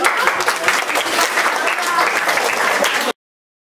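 A crowd applauds steadily for about three seconds, a dense wash of clapping that stops abruptly.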